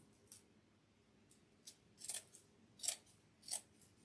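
Scissors snip through wreath material while making a patriotic cross wreath on a Dollar Tree frame: four or five quiet, crisp cuts spaced irregularly, close by, with no talk.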